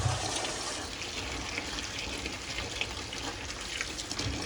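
Chopped ridge gourd is washed under a running tap, with a continuous even splash of flowing water throughout and no talking.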